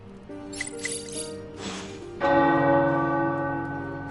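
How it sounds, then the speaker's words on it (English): Tower bells ringing in the video game Midnight Suns: faint chimes at first, then a loud, resonant bell strike that sustains with a long humming decay. "The tower bells are ringing."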